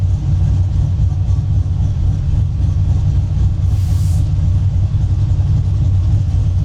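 A 765-horsepower Mustang on pump gas with Holley EFI runs on a dyno, a steady loud low rumble and drone holding even for several seconds with no talk.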